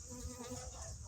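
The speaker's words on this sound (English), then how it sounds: "Ooh, a bee. That's what it is." A bee buzzes nearby outdoors, a faint, steady drone with a soft wavering tone that holds throughout the short moment.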